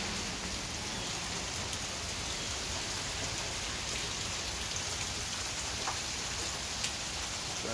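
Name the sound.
rain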